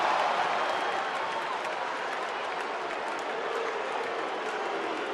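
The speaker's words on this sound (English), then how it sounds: "Crowd is reacting to Ryan Spilborgh's body language on the pitch." A baseball stadium crowd at a Chicago versus Colorado game in June 2011 reacts with a dense, continuous roar and scattered clapping that stays level throughout.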